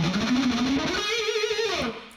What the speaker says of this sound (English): the most interesting guitar thing in the song is the fast picking part